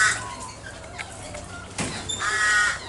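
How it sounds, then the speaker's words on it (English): A crow caws several times in the open on a busy morning in Nerang, loud and harsh, with other birds calling faintly in the background. "That's a crow calling out."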